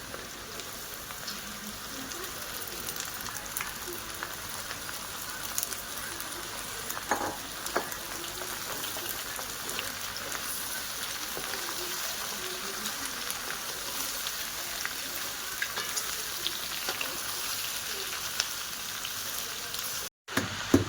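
Onion frying in a pan of roasted spices for a hotel-style gravy, a continuous close sizzle and crackle with scattered pops, steady throughout with no talk.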